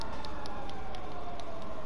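A fire engine siren wails in the GTA 5 video game, a loud continuous tone sliding slowly in pitch over a dense engine and traffic rumble.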